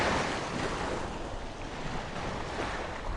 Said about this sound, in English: We got crashing waves right here in front of the trailer.